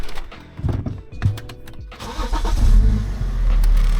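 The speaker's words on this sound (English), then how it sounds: "Turn the car on." A BMW X5 E70 diesel engine cranks briefly after some clicks and handling noises, then catches and settles into a steady low idle.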